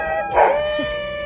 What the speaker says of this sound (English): That's their dog